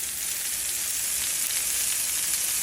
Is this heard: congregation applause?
no